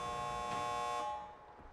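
The endgame collapse timer alarm in the video game Dead by Daylight sounds as a loud, steady buzzing drone that holds for about a second, then fades and trails off into quieter game noise.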